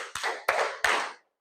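Schoolchildren in an Indonesian classroom clapping in unison on the teacher's count, three crisp group claps spaced about a third of a second apart, each ringing briefly, with no talking.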